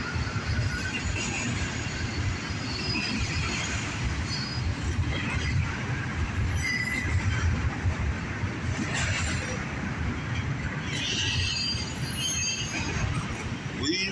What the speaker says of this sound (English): there goes our southbound CSX I-141